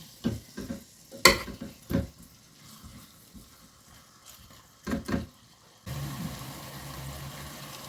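Sorrel soup ingredients being fried and stirred in a pan: scattered scraping clacks of a utensil against the pan, then a steady low sizzle settling in near the end, close and fairly quiet with no talking.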